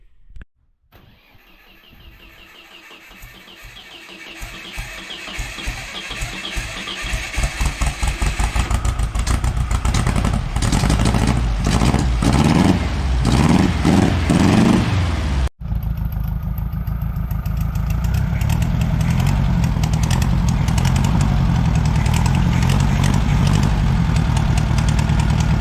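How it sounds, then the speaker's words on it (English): A 1972 Volkswagen Beetle Domus pickup engine cranks on a new starter, catches, and revs up into a loud, steady air-cooled running idle, close by with no talking. "Well, I got a good running Volkswagen motor."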